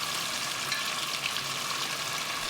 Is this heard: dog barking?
no